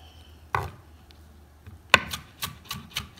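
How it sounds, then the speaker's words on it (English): A knife chops fresh parsley on a cutting board in a home kitchen: a few soft, irregular chops and scraping rubs, close and moderately quiet, with no talk. "I love chopping parsley."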